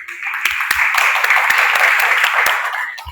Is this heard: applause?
yes